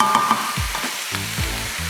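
Strips of chicken sear in a hot pan with a steady, loud sizzle, mixed with a few soft scrapes and clinks as they are stirred.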